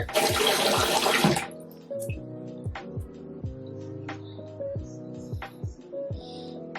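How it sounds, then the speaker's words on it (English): Tap water gushes loudly into a sink for a little over a second while makeup is washed off a face, then cuts off, leaving dripping, splashing and light handling sounds. "Now wash it off my face."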